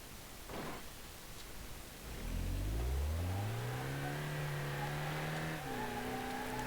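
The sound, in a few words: SUV engine driving in BeamNG.drive video game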